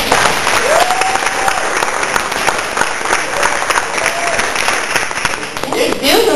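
Audience applause fills a poetry reading at Poetry for the People, a steady, dense wash of clapping from a crowd lasting throughout, with a few brief voices and whistles rising over it.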